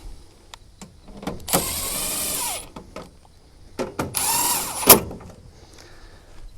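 Two bursts of a power drill whirring up close while servicing a 24kW Generac standby generator, each running about a second, separated by quieter moments with light handling noises.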